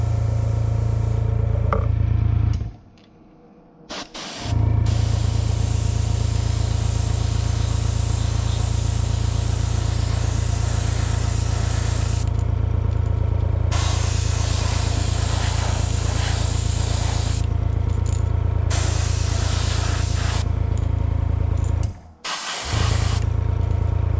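An airbrush sprays bone-colored paint onto a small shallow crankbait lure with a steady airy hiss over a constant low compressor hum. The hiss cuts out briefly twice, then resumes.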